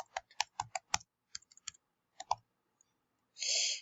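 Typing on a computer keyboard during an eye-testing program, a quick burst of crisp, close keystrokes in an uneven rhythm, then a few sparse taps and a short louder clack near the end.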